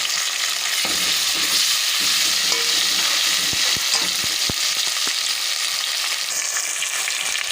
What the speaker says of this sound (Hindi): ये लहसुन और अदरक मैं जो है इसके अंदर डाल देती हूँ। ये प्याज़ों के साथ थोड़ा सा हो जाएगा